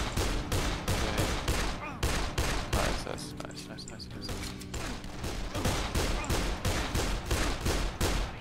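Dense gunfire blasting zombies in Dead Island, rapid loud repeated shots in fast bursts, with a brief lull in the middle before the firing resumes.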